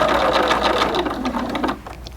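A sewing machine stitching fabric for doll pants runs in a steady fast rhythm of close needle strokes, loud and alone, then slows and stops near the end.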